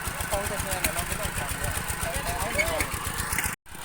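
A walk-behind tractor engine runs with a rapid, rough low putter, close and loud, steady throughout with voices faintly behind it before a sudden brief cut.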